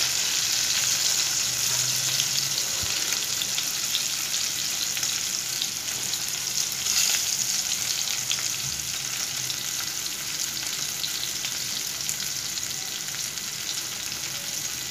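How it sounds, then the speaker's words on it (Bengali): Hilsa fish fries in mustard oil with a steady, dense hiss and sizzle, close and unbroken, fading slightly toward the end. "ভিতরে সফটি ভাব থাকবে কিন্তু উপরটা সুন্দর ভাজা হয়ে যাবে, কালার আসবে অনেক সুন্দর করে"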